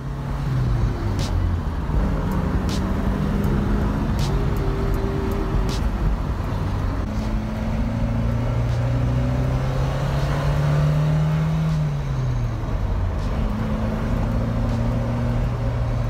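An Alfa Romeo GT 1600 Junior on the road, its engine a steady, close drone with rising and falling pitch through gear changes, under continuous road and wind noise, no talking.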